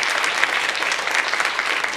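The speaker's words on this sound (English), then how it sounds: "Can you have a big round of applause for" Audience at a scholarship awards ceremony applauding an awardee: brief, dense clapping from a full room, steady and fairly loud with no talk over it.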